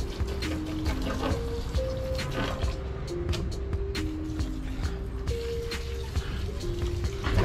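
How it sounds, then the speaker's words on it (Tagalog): A handheld sprayer rinses substrate off a Monte Carlo aquarium plant in a nano iwagumi setup: continuous hissing spray and trickling water throughout, with music playing underneath. "hugasan natin ang Monte Carlo gamit ang sprayer natin"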